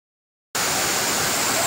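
Nhavankond waterfall in Sindhudurg pouring steadily, a loud, close, continuous broadband rush that starts abruptly after a brief silence and holds unchanged to the end.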